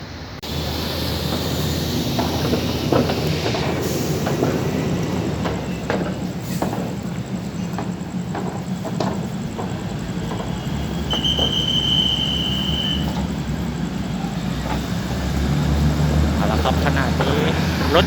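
A train pulls out of Bangkok's Krung Thep Aphiwat Central station, a loud, continuous rumble of rolling wheels and engine with a brief high squeal partway through, carrying on steadily for the whole stretch.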